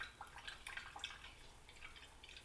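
Cold brew coffee drains through a paper filter with soft, irregular dripping and trickling, faint and close, with no talking.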